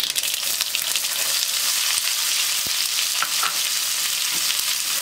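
Loud, steady sizzling and crackling of onions frying in hot mustard oil, close up, with a few faint clinks of stirring.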